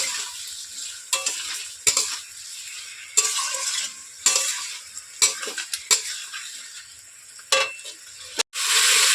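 Spice paste being sautéed with potato and ridge gourd for a rohu fish curry, with a steady sizzle broken by repeated scraping stirs of a spoon against the pan, close and clear with no talking.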